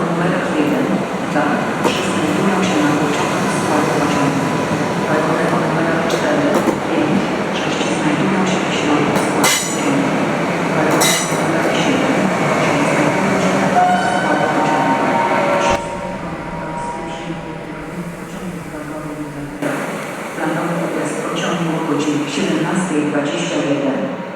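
A passenger train rumbles and hums continuously at a platform in Kraków Główny station, with rail clatter and a public-address announcement speaking over the noise.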